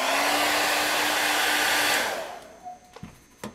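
A hair dryer dries a coat of witch makeup, blowing loud and steady up close for about two seconds before switching off and winding down, followed by a few soft handling taps.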